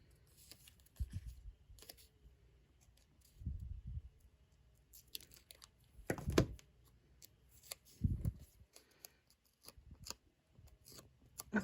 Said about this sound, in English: It looks like that one might stick out a little, so I think I'll trim it down.